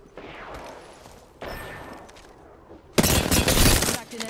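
Gunfire in the video game Apex Legends arrives in several rapid bursts, with two moderate volleys early on and then a much louder, sustained barrage of close shots near the end.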